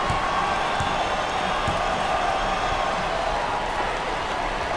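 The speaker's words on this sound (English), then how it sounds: "The crowd is on their feet." Steady roar of a basketball arena crowd cheering in a college basketball video game, loud and continuous throughout with no clear breaks, a dense wash of noise.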